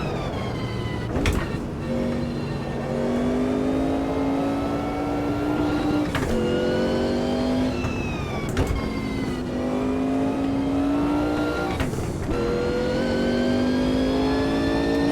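A race car engine in the video game Automobilista 2 at Monza screams at full throttle, its pitch climbing through gears with brief drops at each shift, continuous and loud with no talking.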